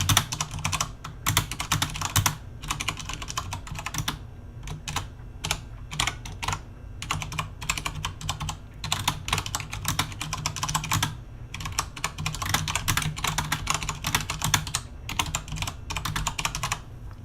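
Typing on a Logitech G710+ keyboard, close and fairly quiet, with steady bursts of soft key presses broken by short pauses throughout.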